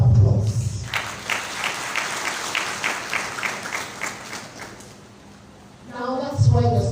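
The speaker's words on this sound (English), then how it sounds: "I think you deserve a round of applause." A university congregation audience breaks into applause, a dense wash of many hands clapping for several seconds that fades out, with a voice speaking before and after it.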